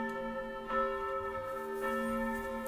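Church bells ring in the video game Kingdom Come 2, two resonant strikes about a second apart with long sustained overtones blending into a steady ringing drone.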